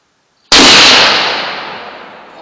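A single 30-06 rifle shot fired outdoors at a milk jug: one loud, sharp blast with a long, slowly fading tail, and no talking.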